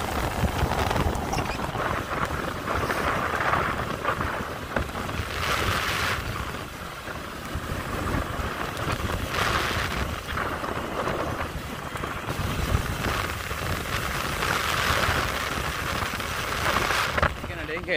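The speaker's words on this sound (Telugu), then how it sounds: "వర్షం మాత్రం మామూలు పడతలేదు. ఇప్పుడే స్టార్ట్ అయింది" Heavy rainfall with thunder during a rainy-season downpour: a dense, constant roar of rain with deep rumbles rising and falling throughout, loud and continuous, with a voice partly heard beneath it.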